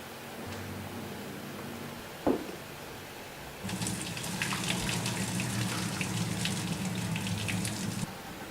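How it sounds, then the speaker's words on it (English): Boiled potatoes are tipped into a colander in the sink, releasing a steady, close rush of pouring water after a short clank, which splashes and gushes for several seconds. "My potatoes are done, so I'm going to give them a good drain."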